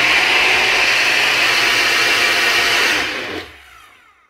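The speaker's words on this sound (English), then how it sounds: "now that our lid's on, we're going to take it and just blend it up" Blender whirring through fermented hot sauce, a loud, steady motor roar close by that winds down and stops near the end.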